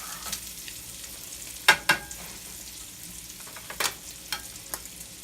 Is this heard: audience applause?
no